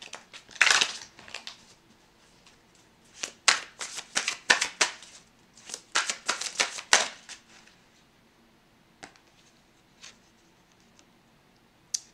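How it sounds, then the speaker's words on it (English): A deck of Angel Tarot cards is shuffled by hand, giving soft, close riffling and flicking in uneven clusters, with brief quiet gaps between them. "I actually want to just pull one more card from the Angel Tarot"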